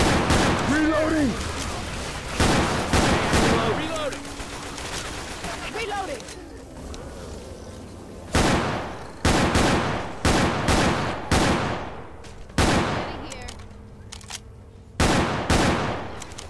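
Automatic weapons fire at armored zombies in a shooter video game, arriving in loud, close bursts of rapid shots separated by short pauses, with a voice talking between some volleys.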